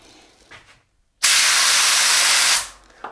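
A loud, steady hiss from an HVLP paint spray gun firing for over a second, close by, then cutting off abruptly.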